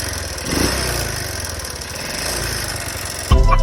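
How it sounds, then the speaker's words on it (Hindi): A motorcycle engine runs close by with a loud, steady, buzzing idle and a slight rise in revs, then a sharp louder burst right at the end. "ये मोटरसाइकिल है, मैं इसको भी स्टार्ट करके इसका साउंड सुनाता हूँ।"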